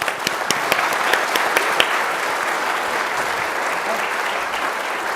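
Sustained applause from an audience at a university alumni reunion panel, dense and steady for several seconds with a few sharper claps standing out near the start.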